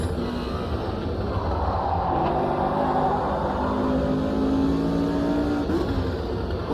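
Race car engine in the Automobilista 2 sim racing game, a loud continuous drone as the throttle is modulated, pitch rising and settling through the run, heard close without any talking.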